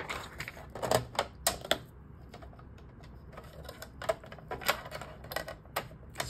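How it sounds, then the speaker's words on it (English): Vellum is cut down for a mini album flip book, likely with a paper trimmer, making bursts of crisp clicking and slicing in quick clusters with short pauses between, close and fairly loud. "let's go ahead and cut down a piece of vellum or whatever you want to use to do that."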